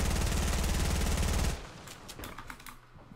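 Gunfire in the Fortnite video game's Getaway mode sounds as a dense, rapid burst of loud shots for about a second and a half, followed by quieter scattered clicks and game noise.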